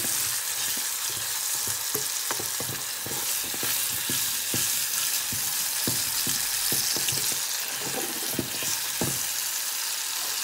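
Chili peppers fry steadily in about a cup of oil, a dense continuous sizzle with frequent small crackles and pops running throughout, close and fairly loud, with no voices.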